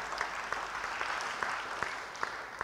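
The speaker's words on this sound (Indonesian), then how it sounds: "Yang percaya, beri tepuk tangan bagi dia." A church congregation gives a soft, fairly distant round of applause, with a few sharper individual claps standing out now and then in a steady patter.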